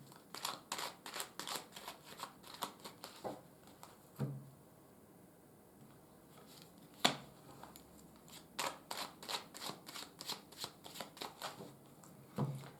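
A deck of tarot cards shuffled by hand in quick riffling bursts, close and crisp, pausing briefly midway before resuming in rapid flutters; nobody speaks.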